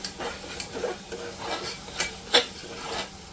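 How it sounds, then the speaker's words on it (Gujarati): Spoon stirring salt and chole masala through black peas in a pan, a run of soft scraping strokes with faint sizzling underneath, one sharper clink of the spoon against the pan near the end. "આ બધું પાછું એકવાર મિક્સ કરી લેવાનું"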